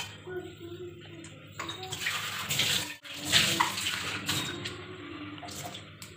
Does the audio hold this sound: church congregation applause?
no